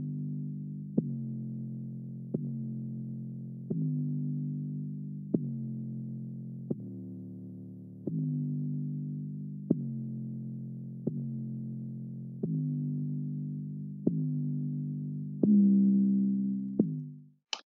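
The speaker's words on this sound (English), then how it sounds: "This is the 808" Deep 808 bass notes in an R&B beat pulse alone at a steady, even pace, each sustained smooth tone starting with a soft click, about a dozen hits in all.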